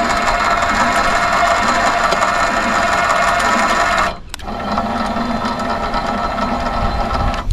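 A winch on a vac crane, worked by wireless remote, spools wire with a steady loud mechanical whir that cuts out briefly midway and then resumes running.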